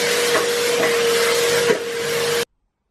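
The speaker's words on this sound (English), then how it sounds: "Hoovering past that area." A vacuum cleaner hoovers a home wardrobe area with a loud, steady whine and hiss, carrying a constant motor tone before cutting off abruptly into silence.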